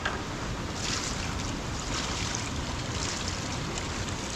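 Gold sluice mats are washed down with water, a steady broadband rush and splash that stays close and constant throughout with no talking.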